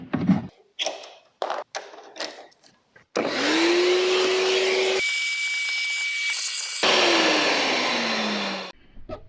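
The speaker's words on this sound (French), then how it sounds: "Bon là le coup d'aspirateur va s'imposer" A vacuum cleaner sucks debris out of a fuel pump area on a Fiat Coupé 20V Turbo, preceded by several sharp taps and knocks, then a loud sustained whine that shifts pitch as the nozzle moves, ending abruptly.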